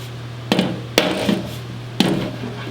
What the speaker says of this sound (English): I'm not hitting real hard here, I'm just tapping away at it.